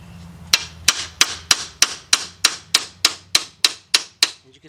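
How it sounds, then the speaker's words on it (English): Hammer striking the front strut assembly of a 2007 Chevy Impala 3.9 where it meets the spindle, about a dozen sharp metallic blows in a steady, evenly spaced rhythm, close and distinct. "All right, now take your hammer."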